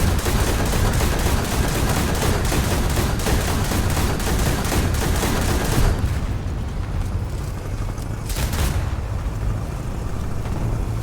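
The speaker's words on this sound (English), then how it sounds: "Finished emptying that magazine out" Sustained rapid gunfire in the War Thunder combat game pours out as a loud, dense burst of shots for about six seconds. It then gives way to quieter scattered booms and a distant rumble.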